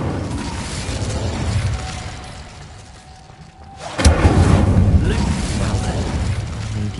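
An Incendio fire spell cast in Hogwarts Legacy bursts with a sudden loud whoosh and boom after a brief lull, its rumble trailing off over steady game ambience.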